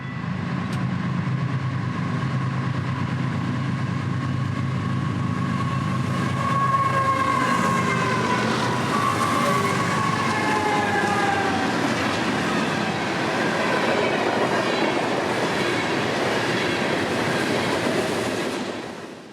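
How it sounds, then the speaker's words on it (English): An FEC intermodal freight train, number 105, rumbles past with steady clickety-clack of wagons and some wheel squeal, while a horn sounds in long tonal blasts from a distance across the passing. "another green signal would light up the East Main, now for an FEC freight, calling in the distance as train 105"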